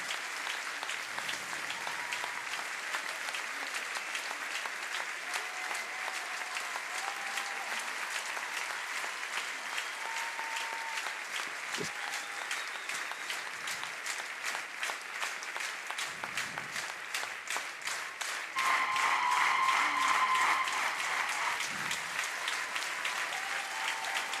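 Crowds applaud at the Longines Grand Prix show jumping event in La Baule, France: dense, sustained clapping from a large audience that swells louder near the end, with faint distant voices and a tannoy underneath.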